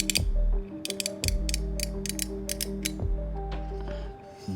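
A metal PunCube mechanical wallet mechanism clicks and ratchets in quick bursts of sharp ticks, close and crisp, with low mechanical thuds between them.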